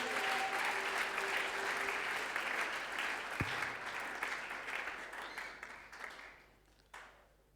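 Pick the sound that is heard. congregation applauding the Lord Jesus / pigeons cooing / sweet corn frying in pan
congregation applauding the Lord Jesus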